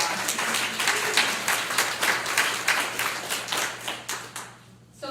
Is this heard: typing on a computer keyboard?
no